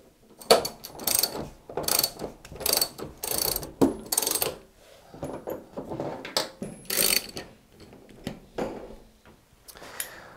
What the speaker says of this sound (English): So I'm just going to start by removing these 4 transit bolts.